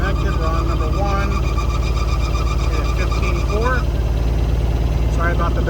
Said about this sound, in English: Sorry about the belt noise.